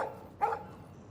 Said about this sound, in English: Hey, doggo. Stop that. Stop. You're barking.